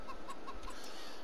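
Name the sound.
chickens clucking in Farming Simulator 22 video game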